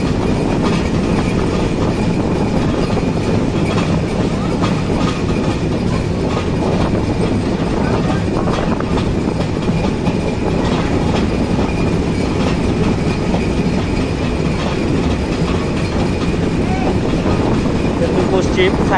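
Chilahati Express train passing through Sayedabad railway station in Dhaka, heard from on board: a steady loud rumble with rhythmic clickety-clack of wheels on rail joints throughout, with faint voices underneath.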